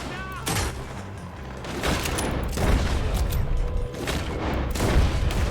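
Volcanic pistol shots from Red Dead Redemption 2 in VR mode, a loud series of repeated gunfire blasts amid dense battle noise, with voices talking over the shooting.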